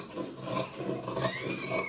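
Scissors cutting blouse fabric along a marked belt line, a steady close rasping swish of blades through cloth that continues through the clip without talk.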